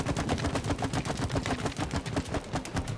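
Rapid gunfire from the It Takes Two video game, a steady stream of quick repeated shots with a dense, busy rhythm lasting throughout, loud and without clear talk.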